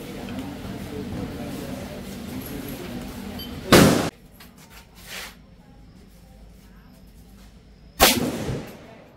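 Two loud, sharp gunshots ring out at a shooting range at the Cu Chi tunnels in Vietnam, where AK rifles and machine guns are fired. The shots are a few seconds apart, and voices murmur before the first.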